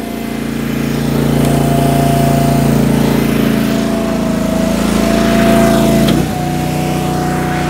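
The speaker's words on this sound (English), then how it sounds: "So I'll go ahead and pull this, and it'll send oil to the hydraulic reel." A Compact LX valve exercising machine's engine runs at a loud, steady drone while its hydraulic reel is engaged at 2000 PSI. The tone shifts abruptly near the end as the load changes.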